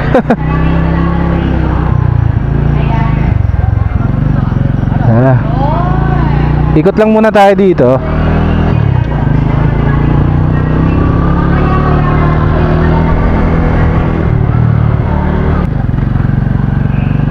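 A Suzuki motorcycle rides at night in Lingayen, Pangasinan, its engine running loud and steady throughout, with a brief surge midway, while someone talks over it.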